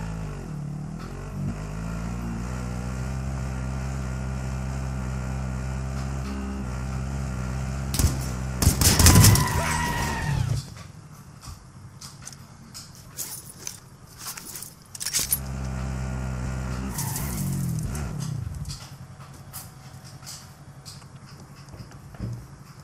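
A vehicle drives in the video game Warzone: a steady engine drone runs throughout, cut by a loud burst of gunfire midway and another sharp crack later, with the engine holding underneath.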